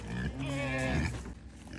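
A pig on a desert homestead gives a loud, close, drawn-out squealing grunt with a rough, voiced tone, lasting about a second before fading into quieter background noise.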